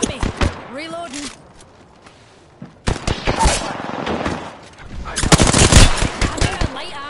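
Rapid automatic weapon fire from the Apex Legends video game, loud bursts of gunshots in quick succession with in-game voice lines between them, building to a dense volley near the end.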